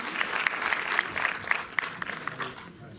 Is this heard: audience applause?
yes